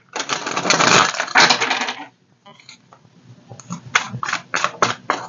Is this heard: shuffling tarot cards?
yes